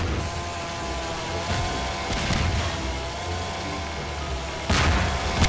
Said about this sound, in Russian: Ух ты, взрыв.